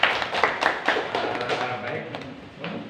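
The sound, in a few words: applause from the audience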